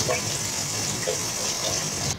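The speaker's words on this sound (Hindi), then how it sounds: "थोड़ा सा फ्राई करने के बाद इसमें 1 प्याली पानी शामिल करेंगे" Water is poured from a cup into masala frying in oil, a steady close gush with a sizzling wash that lasts the whole moment.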